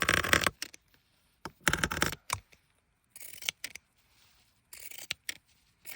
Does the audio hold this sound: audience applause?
no